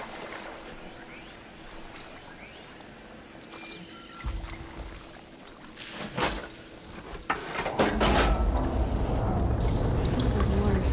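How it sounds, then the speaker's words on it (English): Water starts gushing through valve machinery in the video game Horizon Forbidden West, a rising rush and splash that swells to a steady loud flow after a few mechanical clunks and trickles. "Sounds like the water's switched."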